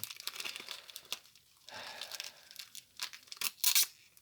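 A Pokémon card booster pack from a Hidden Fates (Destinées Occultes) box is torn open by hand, with close crinkling foil and papery ripping in uneven bursts that end in a louder, sharper tear.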